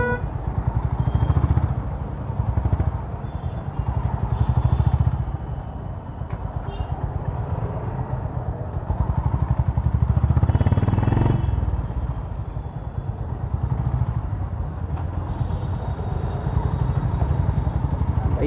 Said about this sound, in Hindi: इतनी ट्रैफिक हो रहा है।